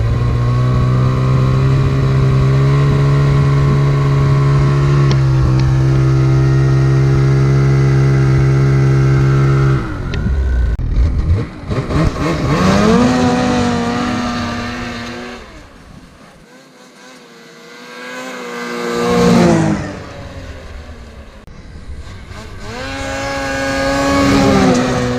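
A Ski-Doo 850 snowmobile with a stock muffler holds a loud, steady drone at 4000 RPM for about ten seconds, then revs and passes in several swelling, fading surges, dipping briefly almost to quiet between them.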